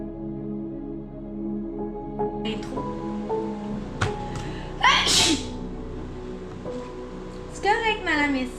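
A person sneezes once, a sharp burst in the middle of a quiet indoor scene, with music softly playing and a brief voice afterward.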